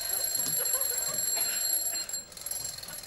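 An alarm clock rings continuously with a high, rapid metallic trill, holding steady for about two seconds before briefly cutting out and resuming, set against a faint room murmur.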